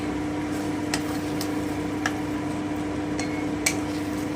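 A spoon stirs bottle gourd leaf ghonto in a pan after raw oil is drizzled over it, giving a steady sizzle with a few sharp metallic scrapes and taps spaced irregularly over the hum.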